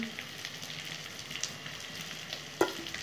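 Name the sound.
onions and green chillies frying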